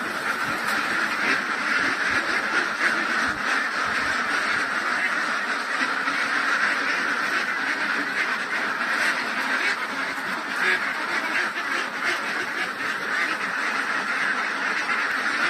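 A dense flock of RTL ducks about 19 weeks old, quacking continuously and loudly together in a duck house, a steady clamor with no talking.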